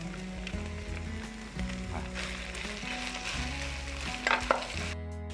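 Cooked meat sizzling in a pan as blended spice paste goes in, a continuous close frying hiss with a few sharper scrapes and splatters near the end, over a faint steady background hum, no talking.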